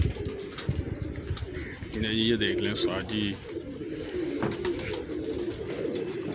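Pigeons in a breeding loft coo in soft, rolling warbles that rise and fall beneath someone speaking nearby, with a steady murmur of other birds behind.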